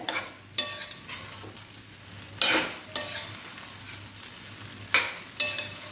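Sabudana khichdi stirred in a pan over medium heat, heard as about six sharp scraping strokes of a spoon across the pan at uneven intervals, close and distinct with quiet gaps between, no voices.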